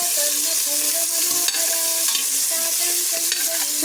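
Onions and tomatoes fry in oil while being stirred, giving a loud continuous sizzle broken by repeated scraping of a spoon against the pan in an uneven rhythm.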